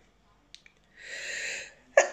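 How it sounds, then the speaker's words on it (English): A single sneeze by a woman: a soft, breathy in-drawn build-up followed by a sharp, close, explosive burst at the end in an otherwise quiet room. "I'm gonna sneeze."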